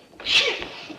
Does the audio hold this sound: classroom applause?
no